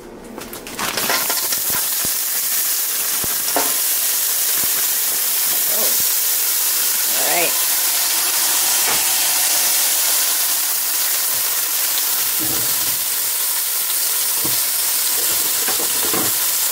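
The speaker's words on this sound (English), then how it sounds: "I'm going to add my peppers" Peppers frying in a hot pan for Mexican-style quinoa give a loud, steady sizzle and hiss close by, with occasional stirring scrapes and clatters throughout.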